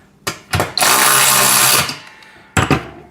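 A power tool tightens a washer and nut while a Vevor pec deck and rear delt home gym machine is assembled, with short bursts followed by a loud, steady whine lasting about a second, then another brief burst.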